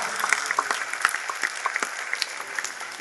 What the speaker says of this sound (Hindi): एक बात तो ताली, इस बात पे बजा।